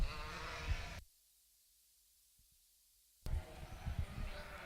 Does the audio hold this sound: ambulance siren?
no